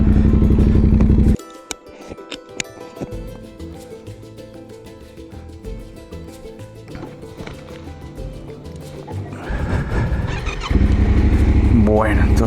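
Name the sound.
motorcycle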